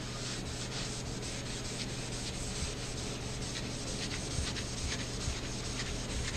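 Rusty cast iron tools are scrubbed with a continuous, even abrasive rubbing that stays close and steady throughout, with no voices.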